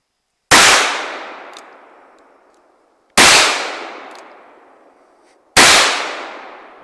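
Three loud, close gunshots ring out from a .44 Magnum Model 29 revolver fired two-handed, each a sharp crack with a long decaying echo, spaced about two and a half seconds apart.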